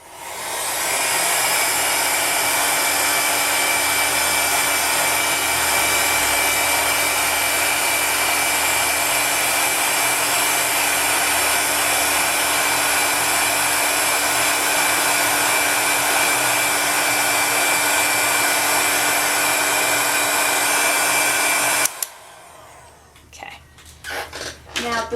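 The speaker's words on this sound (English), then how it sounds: "And now I'm going to bring over my heat gun." A heat gun blows steadily for over twenty seconds while heat-setting polymer clay beads, a loud, even rushing whir with a high tonal whine, then it shuts off abruptly into quiet handling noises.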